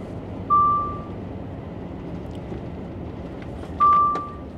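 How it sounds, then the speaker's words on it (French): Car seatbelt warning chime triggered by a bag on the seat, two clear electronic beeps about three seconds apart over a low steady cabin road rumble. "j'ai un sac sur le siège et en fait il fait déclencher le truc de la boucle de ceinture. C'est pour ça que ça bip."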